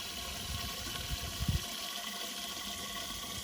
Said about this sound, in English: So we start by adding the water to the watering can.